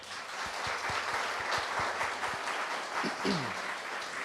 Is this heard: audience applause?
yes